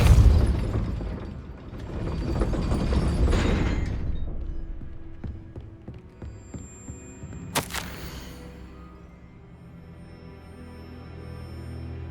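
Depulso spell cast in the video game Hogwarts Legacy, a heavy whooshing burst followed by a sharp crack and a ringing, shimmering tail that fades slowly, alone with no voice.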